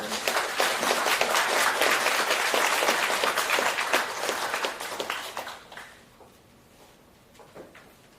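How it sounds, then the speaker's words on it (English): Applause from a conference audience thanking a panel, a dense, fairly loud wash of many hands clapping for about five seconds before thinning out into a few scattered claps and quiet room tone. "Please give our panel a round of applause."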